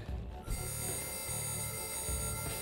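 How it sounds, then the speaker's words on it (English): A button alarm in the RoboMitch video game beeps in three repeated pulses over a steady electronic hum, loud and close, with no speech. "The button alarm's going off again."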